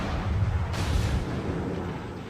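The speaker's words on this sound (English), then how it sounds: "he's firing his guns" Warship main guns fire in the World of Warships naval battle game: a heavy low boom with a rumbling tail that rolls on for the whole clip, loud and close, with no voices.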